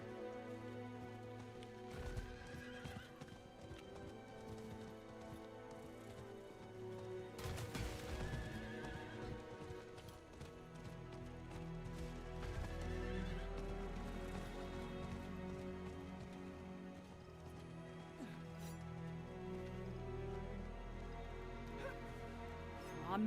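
Horses in Diablo 4 whinny and neigh over a steady background of hooves and music-like tones, with a soft rushing noise throughout.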